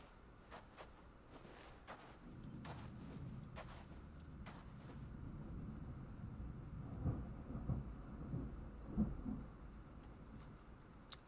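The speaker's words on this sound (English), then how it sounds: "That was a triple burst of lightning I just heard." Thunder rumbles at a distance during a lightning burst in Final Fantasy XVI, a low rolling swell building over several seconds beneath faint crackling bursts and soft ambient noise, quiet overall with no speech.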